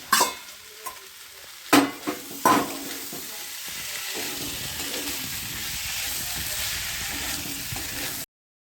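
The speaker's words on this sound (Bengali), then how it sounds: "এখানে আমি কাবলি ছোলাতে আর আলুতে কষিয়ে নিয়ে তারপর একটু জল ঢেলে দিলাম" Chickpeas and fried potatoes sautéing in oil in a home kitchen pot for kabuli chana ghugni, opening with a few sharp clattering stirs and then settling into a steady, close sizzle that runs unbroken to the end.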